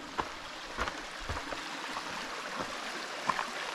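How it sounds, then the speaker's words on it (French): Steady broadband rush of a river flowing over rocks on a hiking trail in Mafate on Réunion, heard alone and close, with a few soft splashes and knocks. "De retour dans la rivière."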